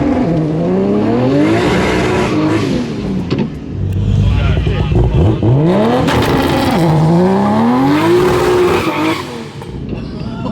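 A 1200HP Barra-swapped Mustang revs hard and accelerates up close, engine pitch sweeping up and down through repeated pulls with tire squeal as the tires heat, while an excited voice talks over the roar.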